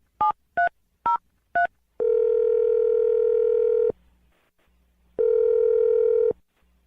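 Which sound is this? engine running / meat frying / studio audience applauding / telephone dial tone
telephone dial tone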